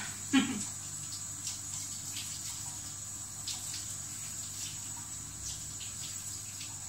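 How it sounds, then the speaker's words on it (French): Hot water trickling from a kitchen tap onto an upturned cake mould, a soft steady flow heard faintly and continuously after a brief clunk at the start. "on fait couler un peu d'eau chaude dessus"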